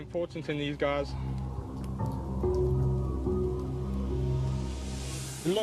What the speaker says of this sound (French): Ça y est, il pleut.